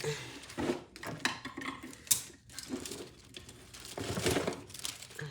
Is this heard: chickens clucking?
no